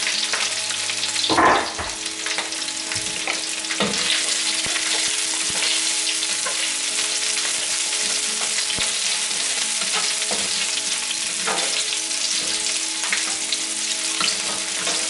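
Jalapeños and large green onion pieces hit a smoking-hot wok on medium heat, giving a loud, continuous close sizzle with occasional stirring clatters and a sharp burst early on, with no talking.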